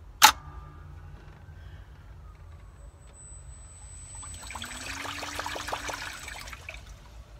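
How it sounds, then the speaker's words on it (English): Water trickles and sloshes into the wooden hull of a 1939 Larson Utility boat around the prop shaft, a steady close splashing with a brief sharp click at the start and a faint pump-like whine mid-way. "Quite a bit of water coming around the prop shaft."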